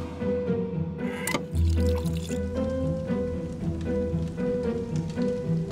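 Water pours into a glass nearby, a short gush followed by a steady filling trickle, with no voices.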